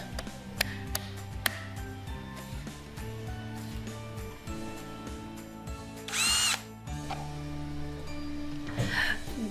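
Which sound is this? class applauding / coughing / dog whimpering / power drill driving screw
power drill driving screw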